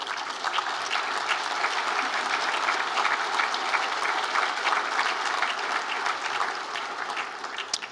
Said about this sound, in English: we can give you a nice round of applause